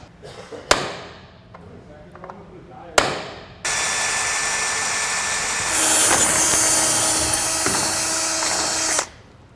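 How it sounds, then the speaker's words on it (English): Two sharp metallic hammer strikes on a hole punch ring out, then a power drill whines steadily drilling through metal, rising in pitch before cutting off. "I'm going to take my hole punch and hammer in the center of that, and then we'll start drilling"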